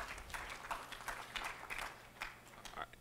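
An audience claps at a student government senate meeting, faint and distant, with a loose patter of overlapping claps lasting a few seconds.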